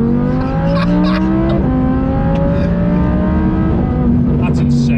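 Heavily modified 600bhp Audi R8 accelerating hard, its loud engine note climbing through repeated rising sweeps with gear changes, close and dominant throughout, with faint voices underneath.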